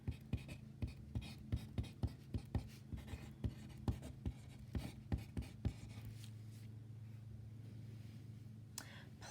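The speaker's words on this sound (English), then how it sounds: "Write down my equation." A pen writes out a gas-law equation by hand in a regular rhythm of close, distinct scratches and taps for about six seconds, followed by a quieter steady background hum.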